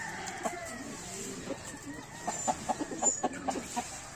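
A Parawakan rooster calls amid a backyard flock, with clucking bursts and a short crow building toward the end, fairly close and moderately loud over soft ambient noise.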